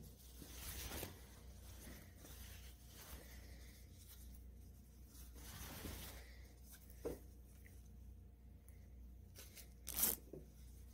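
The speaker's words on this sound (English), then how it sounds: "Now I'm going to zip it up again." A dress zipper is worked during sewing, giving a few faint, brief zipping and rustling sounds spread apart in a quiet room, with a sharper burst near the end.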